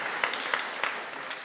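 Audience applause for Renee, the assistant, at an AI design-education workshop: a steady wash of clapping from a room of people, fairly even with a few sharper claps standing out, no voices on top.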